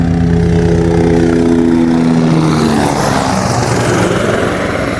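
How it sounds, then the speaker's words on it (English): Loud, throbbing helicopter rotor and engine drone close overhead, steady throughout with a slight shift in pitch as it passes. "We've got a helicopter right above us."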